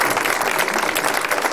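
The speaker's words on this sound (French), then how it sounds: "on peut les applaudir" Audience applause at a French conference, a dense steady patter of many hands clapping throughout, with no voices over it.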